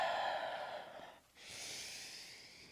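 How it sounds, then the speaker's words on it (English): Slow, deep breaths during a gentle full-body yoga flow, one long airy exhale that fades to a brief pause and then a fresh inhale, close and soft with no talking. "Deepen that breath a little bit."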